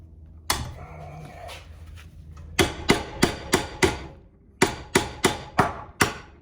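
Bushings hammered out of a 1986 Cutlass lowrider: one sharp metallic strike, a pause, then two quick runs of five evenly spaced, loud, ringing hammer blows.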